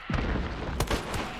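Explosion in the video game Hunt: Showdown, a sharp booming blast followed by a second heavy burst and rumbling debris, loud and close, with no talk.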